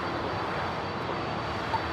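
Steady broadband roar of a Boeing 747 freighter jet at LAX airport, a continuous engine rush holding at an even level throughout with no talk.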